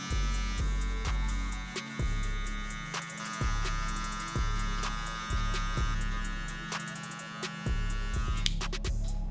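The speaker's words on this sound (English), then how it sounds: "open the lever on the clipper all the way" Electric hair clipper with the lever opened all the way, buzzing steadily up close while cutting a low fade, with repeated short strokes through the hair and brief pauses, no talking.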